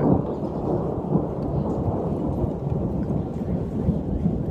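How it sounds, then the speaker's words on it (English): Deep, continuous rumbling of thunder rolls on with rain falling steadily underneath during a Kansas thunderstorm, no voices. "we got a storm, as you can see."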